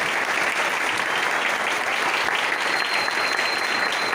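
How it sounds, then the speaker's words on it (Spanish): Steady, dense applause from a church congregation fills the hall, sustained and evenly loud throughout with no pauses. "Den un fuerte aplauso al Señor."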